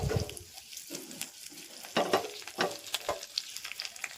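Mustard seeds, a dried Byadagi chilli and curry leaves sizzle and crackle in a spoonful of hot oil as tempering for a ladyfinger curry, with bursts of spattering and sharp pops over a steady frying hiss.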